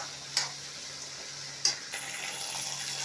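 Turkey berries fry with cumin and curry leaves in a pan, a soft continuous sizzle close by, with two sharp scrape-taps of a stirring spoon against the pan.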